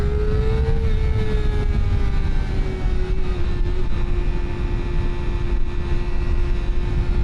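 A Kawasaki ZX-4RR sport motorcycle's small four-cylinder engine drones loud and close at a steady high pitch, with a slight dip and rise in tone as it pulls through the gears.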